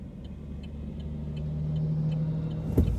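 A big flatbed truck rolls along a New Mexico highway, its low engine rumble and road drone building steadily as it nears, ending in a brief heavy thump.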